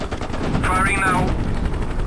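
Helicopter cannon fire in the flight combat game Hind, a dense continuous burst of rapid shots over low engine rumble, loud and close, sustained for the whole stretch.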